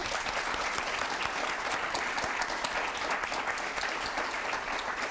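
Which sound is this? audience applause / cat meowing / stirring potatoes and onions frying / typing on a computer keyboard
audience applause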